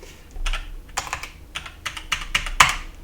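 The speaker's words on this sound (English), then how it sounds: "Type pccc, which is the password that I selected for this virtual machine" A password is typed on a computer keyboard, with close, crisp key clicks arriving in short irregular clusters over a few seconds, quiet and without speech.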